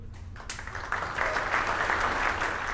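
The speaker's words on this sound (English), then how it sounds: "met with a good cheer from our team" A team breaks into cheering and applause at a Rocket Lab launch of NASA TROPICS hurricane satellites, a dense burst of clapping and cheers that swells after half a second and holds steady.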